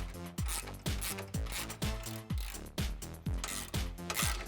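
Repeated rhythmic ratcheting from an 18mm wrench and socket tightening bracket bolts on a Jeep Wrangler JL bull bar, about ten even strokes close up with no talking.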